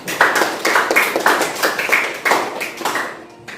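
A classroom of economics students applauds a classmate, a steady burst of many hands clapping close by for a few seconds before fading out at the end.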